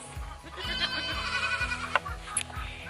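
Several Nigerian dwarf goat kids, separated from their mothers, bleat insistently nearby, overlapping high wavering cries repeating over a steady barn background.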